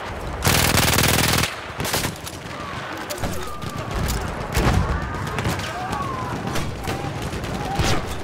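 Rapid enemy machine-gun fire in Battlefield 1 on the Monte Grappa map, a loud sustained burst early on followed by scattered shots and battle noise, with in-game voices shouting over it.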